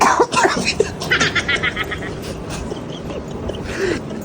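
A few rough coughs from a sick woman amid a hum of background noise, with some faint, indistinct voice sounds around them.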